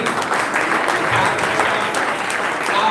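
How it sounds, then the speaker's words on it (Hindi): An audience at a school poetry event claps loudly and steadily, a dense, even round of applause from many people lasting a few seconds with faint voices mixed in. "तो एक बार जोरदार तालियों से हम सभी"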